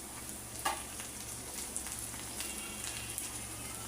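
Ginger garlic paste frying in a pan: a faint, steady sizzle with a few soft stirring clicks, heard alone without talking.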